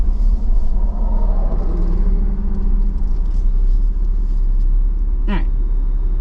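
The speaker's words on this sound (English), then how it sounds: "Crazy busy traffic. I mean, there's like cars behind me, cars coming up on me." Busy road traffic with cars passing near a parked Jeep, a steady close rumble of engines and tires throughout, with one brief sharper passing sweep near the end.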